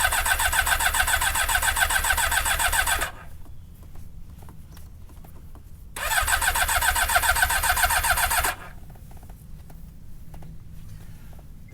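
A motorcycle engine in 12-degree cold, left unused for about a month and fitted with an AntiGravity lithium-ion restart battery, cranks loudly for about three seconds, pauses, then cranks again for a similar burst before stopping, with no voices.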